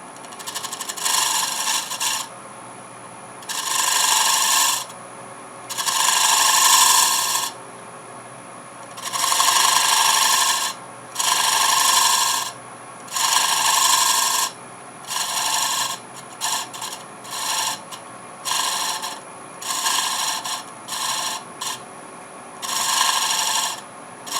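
A Shear Spear detail tool shear-scrapes wood on a lathe in bursts of harsh, raspy rubbing. Each burst lasts one to two seconds, with short gaps between them, and the passes turn quicker and choppier toward the end. The sound is loud and close.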